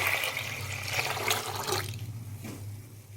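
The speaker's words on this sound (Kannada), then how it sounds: "ಇದಕ್ಕೆ ನಾನು 4 ಲೋಟದಷ್ಟು ನೀರನ್ನು ಹಾಕ್ಕೊಳ್ತಾ ಇದ್ದೀನಿ." Water splashes steadily into a metal pressure cooker for about two seconds, then stops, leaving a quieter hiss with a faint low hum underneath.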